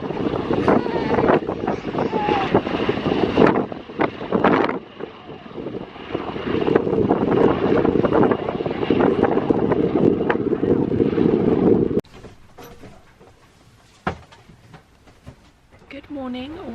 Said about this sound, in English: We're above the chopper.